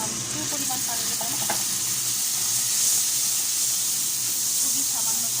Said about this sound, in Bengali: মশলাটা ভালো করে কষানোর জন্য আমি একটু পরিমাণ পানি দিলাম